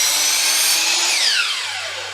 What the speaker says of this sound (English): you want to start with cutting one side